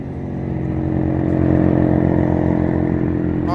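A wood chipper's engine runs at a steady, loud drone as it settles from higher revs down to idle, with a rough, throbbing mechanical rumble throughout.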